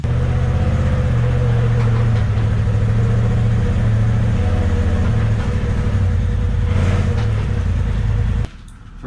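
A brand-new 2021 side-by-side UTV engine idles close by with a loud, steady low hum that runs unbroken until it cuts off abruptly near the end.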